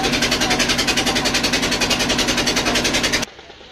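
A motorboat engine drones loud and steady as the boat pulls away from the ghat at Bholaganj in Sylhet, with a regular pulsing rhythm, then cuts off abruptly near the end.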